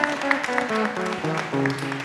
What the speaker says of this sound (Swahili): Wapi shangwe na vigele kwa Bwana Yesu?